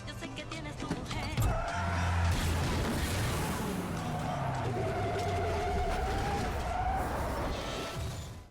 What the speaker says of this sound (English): The tires blew instantly, setting the truck off the road and into a ditch.